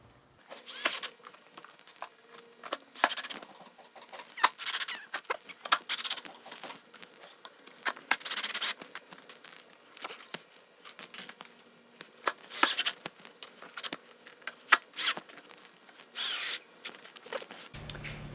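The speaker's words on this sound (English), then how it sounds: "We screwed it in from the bottom first, put our lock screws in on the side" Deck screws driven into a P1 snowboard binding with a power drill, repeated short whirring bursts and clicks close by, separated by brief pauses and quiet handling sounds.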